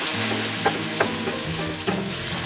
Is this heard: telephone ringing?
no